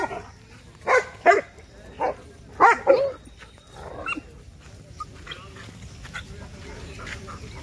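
Several dogs bark in short bursts in a park, a cluster of loud barks over a few seconds followed by quieter yips, with faint background noise between.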